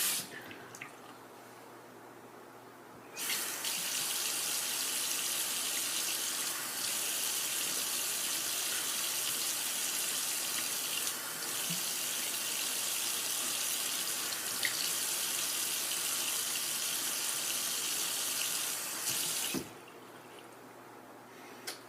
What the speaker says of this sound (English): I'm going to rinse the soap off here and get some of the soap residue off my hands.